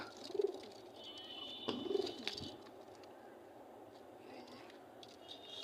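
Pigeons coo softly in low, throaty bursts, two clear rounds near the start, over a faint background murmur.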